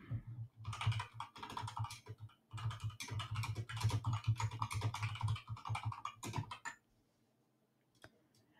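Computer keyboard typing comes in quick, close rapid bursts of clicking keystrokes for about six seconds, then stops into near silence with one final click.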